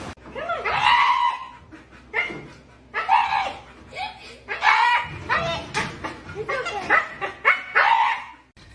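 A pet dog yips and barks in short bursts close by, mixed in with excited people talking and some laughter around it.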